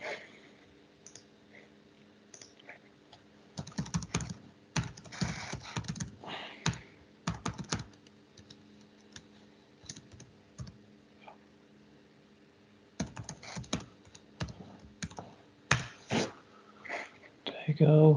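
A password is typed on a computer keyboard in quick bursts of close key clicks separated by pauses, with a person speaking quietly at times in an office setting.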